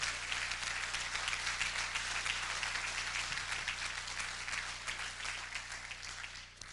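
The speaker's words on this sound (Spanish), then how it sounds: "denle un aplauso, dígale al Señor" A church congregation applauds during a sermon, a steady wash of clapping that holds at an even level throughout before easing slightly at the end, with no voices over it.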